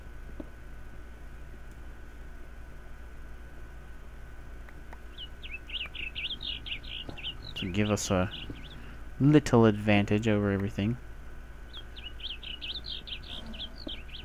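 Bird chirps from the Minecraft video game twitter in short bursts, starting midway and returning near the end, while someone talks over part of it.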